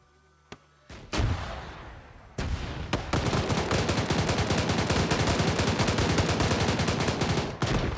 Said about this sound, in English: This guy's just blind firing over here.